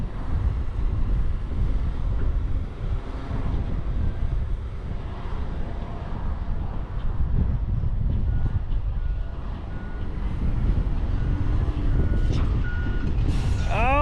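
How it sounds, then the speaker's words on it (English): Gusty wind buffets the microphone on a hilltop beside a Cat D6 dozer, a loud low rumble throughout, with engine noise and brief high chirps near the end. "it's windy up here, y'all."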